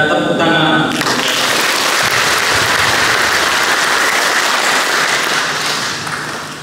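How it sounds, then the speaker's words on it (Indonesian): An audience at a university seminar on cognitive science applauds, a loud, dense burst of clapping that sustains evenly and tapers off near the end, following a brief moment of voice and room sound. "Mari kita tepuk tangan."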